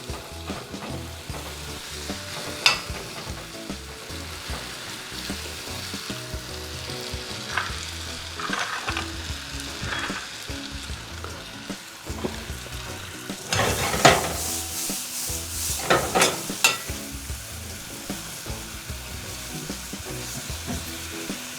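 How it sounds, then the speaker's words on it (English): Bananas sauté in a little butter in a pan for Bananas Foster, making a constant close sizzle over about twenty seconds. Intermittent stirring scrapes and louder hissing bursts come through the middle and later part, with no voices. "We add our bananas. We're gonna saute these just for a few seconds."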